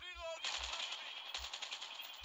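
Automatic gunfire in the mobile video game Call of Duty Mobile, a rapid continuous burst of rattling shots that begins after a short tonal game cue and runs to the end.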